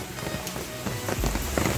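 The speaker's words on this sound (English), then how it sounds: "It's raining." Steady rain falling outdoors, a dense continuous patter across the whole stretch with a few heavier drops standing out, fairly close and moderately loud, no talking.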